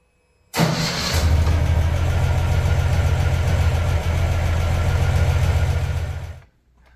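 A Ural motorcycle engine cranks and catches after a breakdown, then idles with a steady low, throbbing rumble for several seconds before cutting off; loud and close, with no talk.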